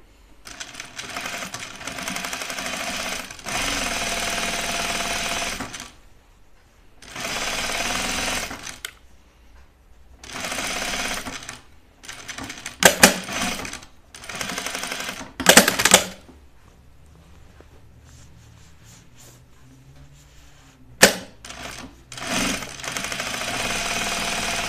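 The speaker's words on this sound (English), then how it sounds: "rows of gathering stitches in here" A sewing machine runs rows of long gathering stitches on a Cascade duffle coat in repeated loud bursts, separated by short pauses and a few sharp clicks.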